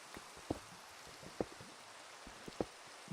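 Rain is faint and steady in the background, with a few sharp, distinct drip-like taps spaced irregularly over a soft hiss.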